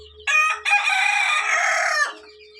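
A rooster crows once, loud and close, a long drawn-out call cut by a brief gap near its start, with no talk around it.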